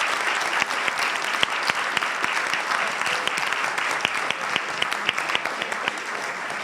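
A seated audience gives sustained applause for panelists at a discussion event on race in Richmond, dense steady clapping with some sharper individual claps standing out, close and even throughout.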